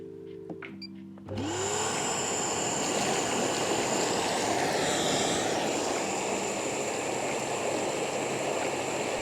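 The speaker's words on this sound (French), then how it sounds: "maintenant il n'y a plus qu'à activer les bulles" Bubble jets of an Intex Galaxie inflatable spa switch on abruptly and run as a loud, steady roaring hiss of air churning the water, continuing unbroken to the end.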